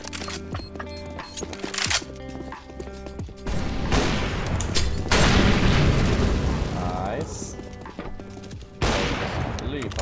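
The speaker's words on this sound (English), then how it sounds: "Look how he waits for the nade to explode and he just watches it." Grenade exploding in CS:GO on a Breach operation map, a heavy blast among rapid gunfire bursts and clattering in-game sounds, with someone talking over the action.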